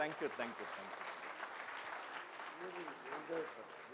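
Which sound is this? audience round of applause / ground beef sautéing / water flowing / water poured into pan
audience round of applause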